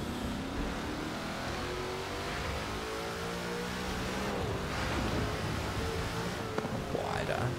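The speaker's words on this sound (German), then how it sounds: "Kompressor hört sich ziemlich komisch an." A supercharged car engine in Forza Horizon 4 accelerates with a whining tone climbing steadily in pitch, a voice talking faintly over it.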